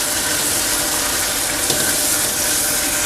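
Washing machine filling with water, a loud, steady rushing gush that runs unbroken from start to finish at close range, with no voices over it.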